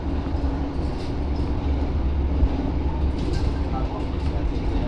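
Steady low rumble of a passenger train running, heard from inside the carriage with broadband rolling noise and faint rattles throughout.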